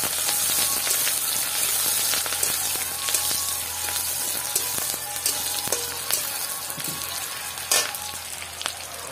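Chopped green chili frying in a pan for a crab curry, a steady dense sizzle running throughout with light scraping stir strokes and occasional clinks, close and fairly loud.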